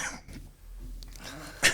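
A single short, sharp cough from a person during a conversation at a technical school, bursting out near the end after a stretch of quiet room tone.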